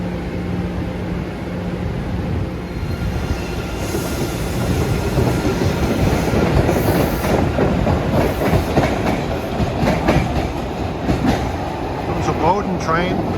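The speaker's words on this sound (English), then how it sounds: "You can hear those Siemens-like whoops going on those cars." MBTA Blue Line subway cars on the Boston subway run loud and close, with steady rail rumble, clickety-clack and rising electric whoops and squeals.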